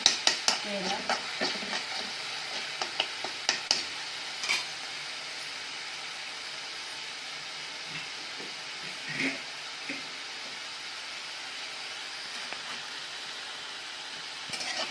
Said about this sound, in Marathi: हिरव्या वेळ मिरचीला आपण व्यवस्थित तळून घ्यायची